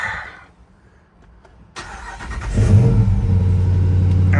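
A Hemi V8 swapped into a Jeep JL fires up after a quiet lull, catching with a sharp burst that settles into a loud, steady, rumbling idle, close by and without talk.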